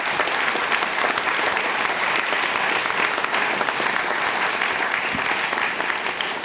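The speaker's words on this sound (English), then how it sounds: "if we could have a round of applause for Dave and his staff" Sustained audience applause at a December 2007 oath of office ceremony, dense, steady clapping from a full room without a break.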